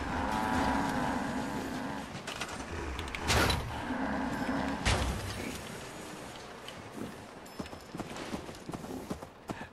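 A cow in a video game moos with a low, drawn-out call, mixed with clip-clop hoof steps and other game noises over about ten seconds.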